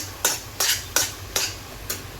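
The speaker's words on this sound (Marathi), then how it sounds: "ह्याला अजून आपण थोडा 2 मिनटं परतून घेऊया" Masala being sautéed in oil for a shrimp and potato curry, five evenly spaced scraping stirs of a spatula against the pan over a faint low background, no talk.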